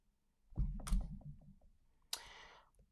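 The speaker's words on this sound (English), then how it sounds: "I'm just typing in the chat." Keys tapped on a computer keyboard while a message is typed into a chat: a quick burst of several close, crisp clicks, a short pause, then one sharper clack, with faint low background noise throughout.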